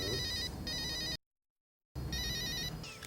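A telephone rings with a bright electronic trill, two rings separated by a brief silence, loud and close.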